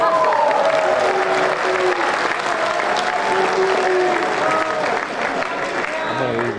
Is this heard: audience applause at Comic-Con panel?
yes